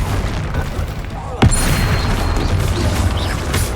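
A Confringo spell blast from Hogwarts Legacy, a single sharp boom near the middle that cuts through a dense bed of game effects and spell noise, loud and close, followed by a lingering crackling rumble.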